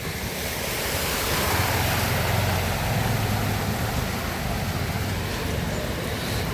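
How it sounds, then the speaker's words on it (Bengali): Sea waves crashing and surging in heavy rain and wind, a continuous loud roar of surf with gusty microphone wind noise and no voices. "বন্ধুরা, দেখতে পাচ্ছ সমুদ্র?"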